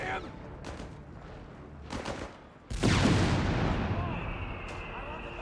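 An M8 Scott howitzer fires in Company of Heroes 3 amid scattered distant gunfire, one loud booming blast midway with a long rumbling tail, and a voice speaks faintly in the background.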